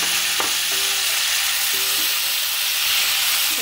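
Tomatoes sautéing in a pan for a tomato mint chutney, giving a steady close sizzle with a few brief stirring scrapes, no talking.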